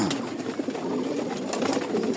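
Male pigeons coo inside a loft, soft throaty calls repeating in overlapping bursts at close range, with no talk over them.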